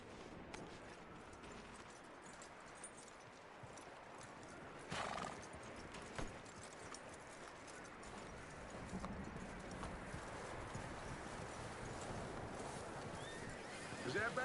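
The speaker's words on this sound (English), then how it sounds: "That looks like a decent horse." Horse hooves clip-clop steadily while a horse whinnies in Red Dead Redemption 2, over a busy game soundscape with faint distant gunfire and some talk.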